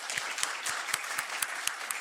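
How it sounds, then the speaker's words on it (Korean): A church congregation claps during a Sunday worship service in rhythmic unison, regular sharp beats about four times a second, moderately close and alone. "하나님께 영광의 박수 올리겠습니다."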